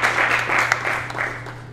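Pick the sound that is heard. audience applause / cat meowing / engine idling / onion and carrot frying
audience applause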